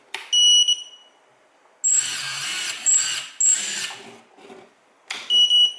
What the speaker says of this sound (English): See, now I set the beeper.